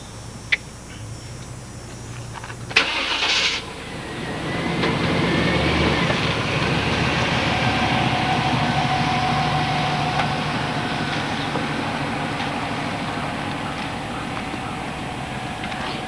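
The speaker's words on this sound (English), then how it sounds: "You're gonna hear a car start up now" An Infiniti G35's engine cranks with a brief whirring catch, then settles into a steady, loud rumbling idle that continues throughout.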